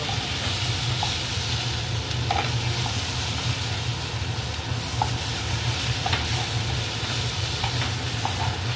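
Spice paste of ground spices, chilli paste, tomato and green peas sautéing in a pan for a catla fish curry with turnip, a steady close sizzle with occasional scraping stirs and light clinks, no voices.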